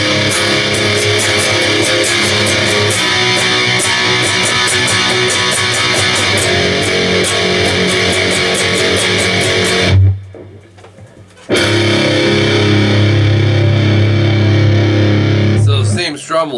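A distorted electric guitar strums big open chords for a guitar lesson. A steady, loud, sustained wall of chords runs throughout, drops out briefly near the middle, then returns just as loud.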